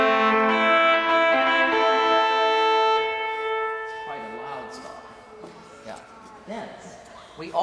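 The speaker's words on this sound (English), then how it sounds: "we have on this organ a big tuba, which is a stop that's very good for ceremonial occasions." A big ceremonial tuba reed stop on a pipe organ sounds strong, bright sustained notes for about four seconds, then fades into room reverberation and light background noise.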